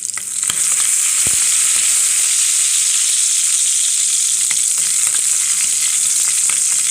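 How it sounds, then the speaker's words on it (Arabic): Garlic taqliya sizzling loudly in hot fat as it is stirred into molokhia soup, a steady close hiss with occasional spoon scrapes and clicks. "انا حطيت الشوربه اهي بنقلبها التقليه"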